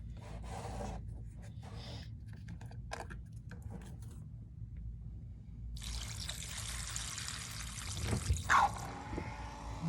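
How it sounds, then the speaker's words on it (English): Water is poured into a DIY angel tabletop fountain, a steady trickle and splash that grows louder and fuller partway through, preceded by quieter handling rubs and taps. "I'm going to be filling water all the way up to, I don't know, about 1/4 of an inch"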